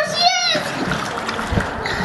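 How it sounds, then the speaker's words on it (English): Water splashes as a child dives into a pool, a short bright splash followed by sloshing and trickling, with a voice and other speech over it. "Is she diving in the water?"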